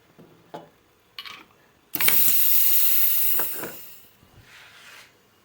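A quarter-inch bit is loaded into an Onefinity Elite CNC: a few short mechanical clicks and ratcheting, then a sharp burst of hissing air for about two seconds, followed by a fainter hiss.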